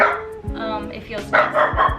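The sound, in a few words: dog barking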